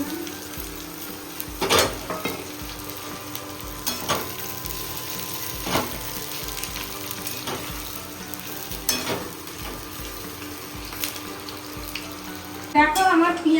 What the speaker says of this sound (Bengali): এবার ভালো করে এটাকে মুচমুচে করে ভেজে নেব। আর একটু তেল দিয়ে দিলাম।